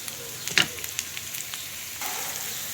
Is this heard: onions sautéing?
yes